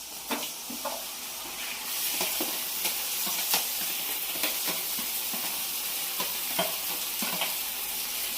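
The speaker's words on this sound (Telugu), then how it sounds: "సో ఇలా కట్ చేసి పెట్టుకున్నాం చిన్న చిన్న పీసెస్గా ఇప్పుడు దాంట్లో వేసేయడమే" Chopped tomato goes into a pan of frying prawn curry, raising a steady sizzle and hiss. Scattered clacks of stirring and spoon against pan are heard close up, with no talking.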